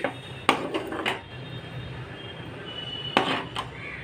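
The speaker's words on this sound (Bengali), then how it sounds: "এবার ভালো করে এই কাঁচা পোস্তটা এই গ্রেভির মধ্যে মিশিয়ে দিচ্ছি" Metal spoon scraping and clinking against a pan while raw poppy seed paste is stirred into egg curry gravy, a few sharp knocks spaced over a quiet background of soft stirring.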